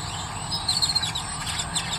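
Birds chirp through the night, with faint, high, thin chirps repeating in short bursts under a steady background hiss, heard from a distance.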